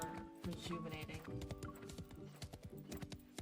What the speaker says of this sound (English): The horse's hooves